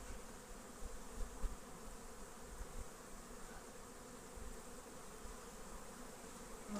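A honey bee colony hums with a dense, even buzz as a hive is opened for inspection after winter, a faint, continuous drone with light rustling and occasional handling knocks.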